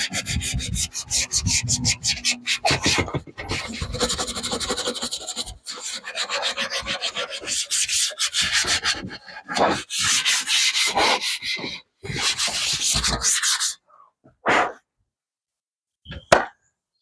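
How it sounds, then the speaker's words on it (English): Sanding pad flattening paint on an MG Midget dashboard, a close, steady rasping rub in repeated strokes with short pauses, ending in near silence. "now I'm just going to flatten down with a sanding pad"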